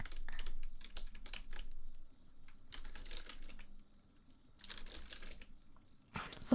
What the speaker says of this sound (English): keyboard sounds. Nice, fancy gamer keyboard